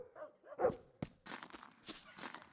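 A single dog bark rings out in the video game Drug Dealer Simulator, followed by a thump and a run of scuffing footsteps, all fairly quiet.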